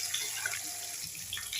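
Water is poured into a pan of potatoes that have been fried with spices for a Bengali stuffed pointed gourd dish. It makes a soft, steady splashing and trickling close by, with no speech.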